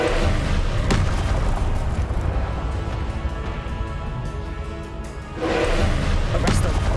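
Booming bursts of an Incendio fire spell from Hogwarts Legacy hit over a continuous rumble, with one sharp blast early on and another heavy burst near the end.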